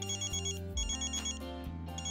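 A mobile phone ringtone plays a steady, looping electronic melody of bright repeating tones with a low bass line, loud and continuous for about two seconds with no talking over it.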